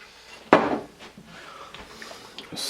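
A spoon knocks once against a pot of hamburger rice soup and then scrapes softly through the thick mixture, with a few light taps near the end.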